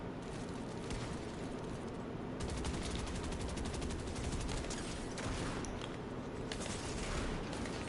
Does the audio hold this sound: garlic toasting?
no